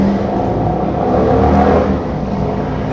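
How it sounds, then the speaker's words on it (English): A motorcycle passes close by, its engine note swelling to a peak mid-clip and then fading, a steady mid-range drone with no talk over it. "friendly motorcycle going by"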